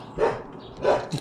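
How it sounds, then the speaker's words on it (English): Dogs bark twice in short, fairly faint bursts about half a second apart, heard from a little distance indoors with no talking. "Apologize for the dogs again."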